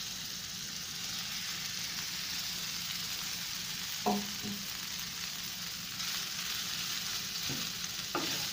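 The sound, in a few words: stir-frying rice with black pepper in a pan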